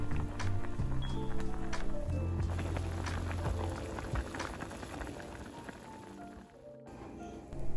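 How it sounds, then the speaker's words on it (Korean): Doenjang jjigae, a Korean soybean paste stew, bubbling steadily in a pot on a home stove, a close, continuous dense burble of popping bubbles throughout. "된장찌개가 맛있게 끓고 있네요."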